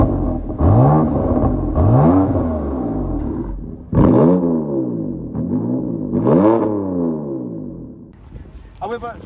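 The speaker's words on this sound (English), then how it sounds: "See, the M4cs comes with a free-flowing exhaust." Stock factory exhaust of a BMW M4 CS, sounding as a series of sharp revs that rise and fall, four or five blips in an even rhythm, loud and close, with an engine rumble between them.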